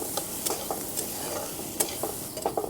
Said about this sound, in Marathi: कांदा पण चांगला परतून घ्यायचा आहे